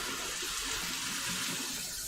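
Water runs steadily from a kitchen tap into a measuring cup, a continuous close hiss and splash holding at an even level throughout.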